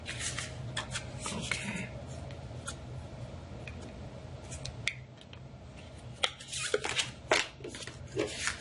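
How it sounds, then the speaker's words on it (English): Shuffling heart-shaped oracle cards: soft papery riffling and clicks that build into sharper card snaps toward the end, close and fairly quiet, with a brief spoken word. "These are heart-shaped oracle cards and always a challenge to shuffle."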